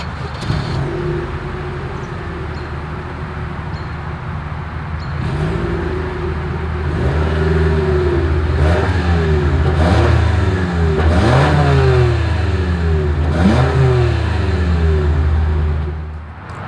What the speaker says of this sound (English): Is always here is that exhaust clip